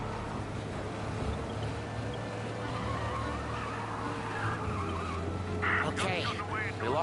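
In the Mafia video game, a car speeds along with a steady engine drone, and a brief tire skid squeals out near the end while a voice talks over it.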